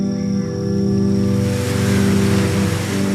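Running water rushes steadily beneath a sustained, droning musical tone, the wash of water growing fuller and louder toward the end.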